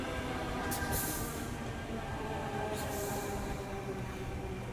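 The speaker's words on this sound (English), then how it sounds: "Also Tangara set T94 first half arriving into platform number 2, heading towards the city." A Sydney Trains Tangara set pulls into the platform at St Leonards station, heard as a steady low rumble of wheels and motors with brief hissing bursts over it, moderately quiet and without speech.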